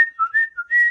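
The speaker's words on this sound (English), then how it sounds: "they did the mountain boy whistle" A person whistles a short secret signal in a few quick pitched notes, a clear, close, bright call that shifts up and down in pitch, heard alone.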